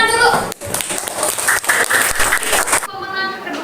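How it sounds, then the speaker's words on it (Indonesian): Classroom applause for the first group of students, uneven clapping from a small gathering mixed with chatter and a voice talking over it, ending abruptly before a quieter tail. "Kasih tepuk tangan dulu."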